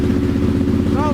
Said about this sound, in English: So it runs good on choke, fired up pretty quick.